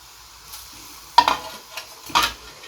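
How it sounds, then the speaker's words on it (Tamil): Falafel balls are slipped into hot oil in a pan, giving two sharp, close splashy hits that crackle briefly before dying back to a quiet background. "இதே மாதிரி எண்ணெய் நல்லா காஞ்ச எண்ணெயில் நம்ம மொள்ளமாக இதே மாதிரி போடணுங்க."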